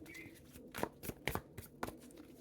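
Tarot cards being shuffled by hand, a few quick riffling bursts in an uneven rhythm, close and moderately quiet, with no one speaking.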